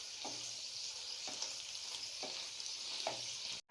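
Chicken pieces fry in hot oil with a steady, even sizzle, broken by a few soft stirring knocks spaced about a second apart, close and quiet, ending in abrupt silence.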